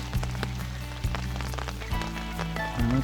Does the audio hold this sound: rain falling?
yes